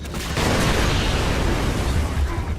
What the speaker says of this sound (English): Pull the pin, throw the body, watch the explosion.